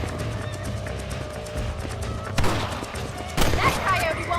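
Horse hooves clip-clop and a horse whinnies in the Red Dead Redemption video game, with two sharp bursts like gunshots, all under ongoing speech.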